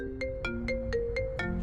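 Mobile phone ringtone for an incoming call, a melodic sequence of quick electronic tones repeating at a steady pace, clear and close with no talk.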